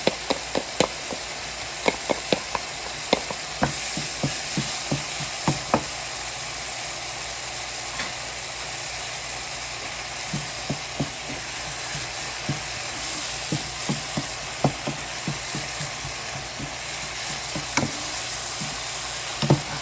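Tomatoes and cilantro fry in a pan with a loud, continuous sizzle, broken by sharp clicks and taps of a utensil against the pan.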